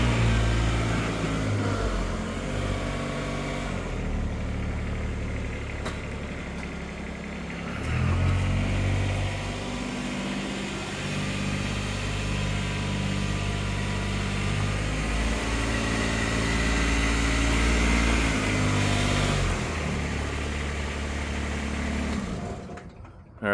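A car drives at steady speed, its engine and road rumble holding a continuous low drone close up for the whole stretch, with gear or speed shifts changing the pitch now and then.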